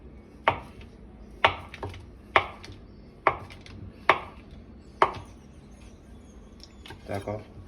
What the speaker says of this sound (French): On va couper du beurre en petites pièces